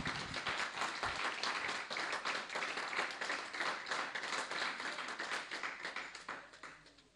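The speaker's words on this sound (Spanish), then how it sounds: "démosle un aplauso a nuestro Cristo" Church congregation applauding during a Sunday service, a brisk, dense round of many hands clapping together that holds steady for several seconds and then tapers off at the end.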